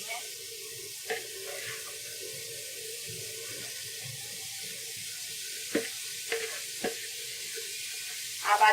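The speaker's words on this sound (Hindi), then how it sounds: "अभी चिकन जो है मैं इसको ग्रिल कर लूंगी।" Marinated chicken for shawarma sizzles on a grill, a steady soft frying hiss under faint background sounds, broken by a few sharp clicks and scrapes.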